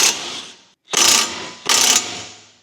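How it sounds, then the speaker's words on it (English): Ratchet wrench fitted with an E18 star socket cranking off a brake caliper bracket on a Mercedes-Benz GLA 250, three loud close bursts of rapid pawl clicking with short pauses between. "you will need an E18 star socket to remove the brake caliper bracket off"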